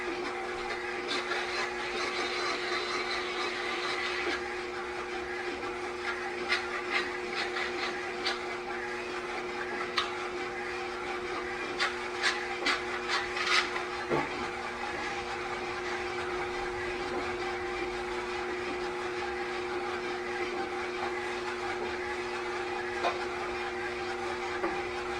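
A Shopsmith fitted with a DC motor turns at 300 RPM while a small burr is taken off a workpiece, giving a steady low machine hum with faint intermittent scraping and ticking on top, continuous throughout.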